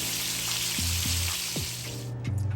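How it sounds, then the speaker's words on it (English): Steady, loud sizzling of lamb chops frying in a hot pan, a continuous crackling hiss with a few low clinks and scrapes of utensils. "While our lamb chops are frying"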